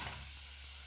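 Steady broadband sizzling hiss of shrimp frying in a hot pan, constant and close, with no voices.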